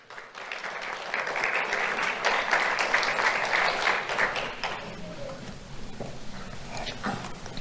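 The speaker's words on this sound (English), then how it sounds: "Let's have a round of applause for Janelle Temple." Audience applause at a sheriff's office awards ceremony for students, building quickly into dense clapping that thins out near the end as a voice speaks.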